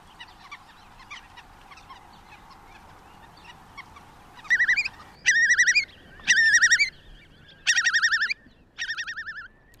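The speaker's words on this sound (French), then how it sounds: "Les limicoles sont donc des oiseaux du milieu marécageux." Shorebirds such as godwits in a winter marshland give repeated loud, rippling calls in five or six distinct bursts over a quieter background of distant chirps and twitters.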